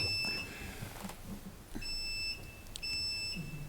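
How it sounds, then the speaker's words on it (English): Electronic beeps from a city council meeting's microphone system sound alone in short, steady high tones, two separate pairs about a second apart. "it's gonna beep you in"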